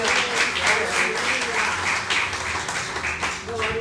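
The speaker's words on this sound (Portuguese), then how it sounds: "Dê uma salva de palmas ao Senhor." A church congregation applauding during a service, with steady clapping throughout and voices mixed in beneath it.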